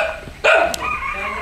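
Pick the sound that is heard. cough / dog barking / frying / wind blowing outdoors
dog barking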